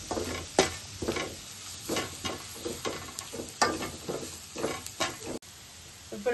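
Pasta being stirred and mixed with masala in a pan, with repeated scraping, clattering stirs over a soft background sizzle, close and steady with no voices.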